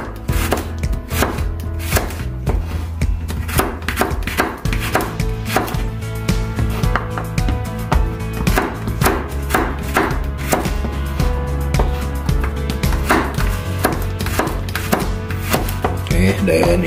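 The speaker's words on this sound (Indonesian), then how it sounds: "Ini ada bawang putih 4 siung dan saya iris dulu ya." Four garlic cloves sliced with a knife on a cutting board, a loud, close run of quick, sharp chopping taps in a steady rhythm that continues throughout.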